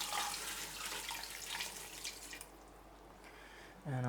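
Water runs steadily from a tap into a stock pot holding pork belly and softened vegetables. The splashing flow is moderate and close, then stops near the end as a brief voice cuts in.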